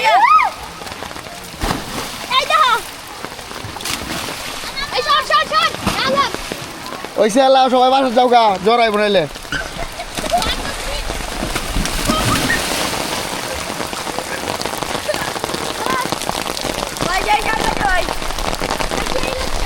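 Steady rain patters and hisses throughout at a fish market in Hossainpur, while people talk and call out loudly over it in the first half.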